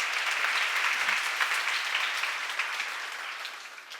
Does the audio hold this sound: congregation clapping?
yes